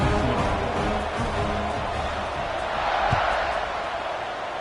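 A football stadium crowd at a Liberty versus ECU game roars steadily as the kickoff approaches, a dense sustained wash of noise with scattered shouts and a brief sharp knock partway through.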